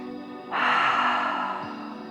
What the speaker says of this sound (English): So inhaling deeply and exhale